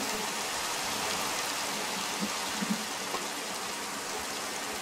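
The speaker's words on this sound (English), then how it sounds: "Just a rainstorm." A Minecraft rainstorm pours steadily, an unbroken soft hiss of falling rain with a few faint knocks partway through.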